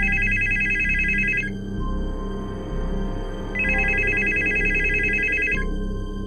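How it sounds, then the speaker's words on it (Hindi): A telephone rings twice in a long electronic trill, each burst about two seconds with a pause between, loud and close over a low ambient hum in a horror narration. "जवाद ने कॉल मिलाकर फ़ोन कान से लगा लिया। काफ़ी देर तक बेल जाती रही"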